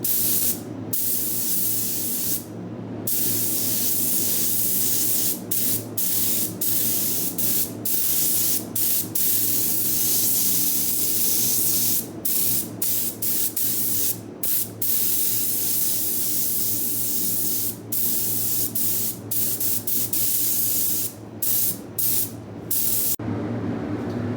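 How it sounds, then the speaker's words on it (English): Clear coat is sprayed onto a Pinarello F10 carbon bike frame during a paint and logo repair, loud hissing bursts from a spray gun, many short and long passes separated by brief pauses, with no talk. "Okay, first coat of clear is down"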